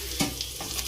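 Drumstick leaves and coriander frying in a pan for egg bhurji make a short, soft sizzle with light stirring scrapes.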